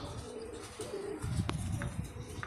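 Pigeons coo softly and repeatedly at close range, low throaty calls rolling over a faint rustling background.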